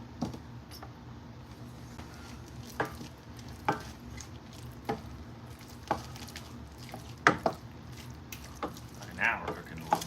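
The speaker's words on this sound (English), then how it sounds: "Now it's starting to sizzle." Soft, steady sizzling of chicken frying in melted butter, with intermittent clicks and scrapes of stirring throughout.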